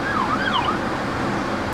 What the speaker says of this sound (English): Oh my god, there's an ambulance.